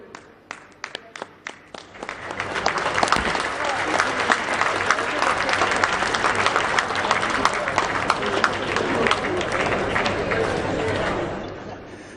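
A large outdoor crowd at a PM Modi rally on the Baripada Highschool field breaks into applause. A few scattered claps swell into a long, dense roar of clapping that fades near the end, with chatter mixed in.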